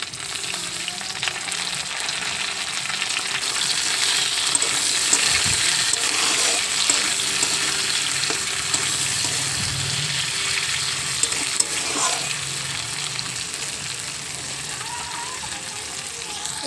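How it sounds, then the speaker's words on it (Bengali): Chopped tomato sizzling with fried potatoes in a pan, a steady crackling hiss with a few stirring knocks, close and continuous. "আলু ভাজা হয়ে গেছে, এর মধ্যে দিয়ে দেব টমেটো কুচি।"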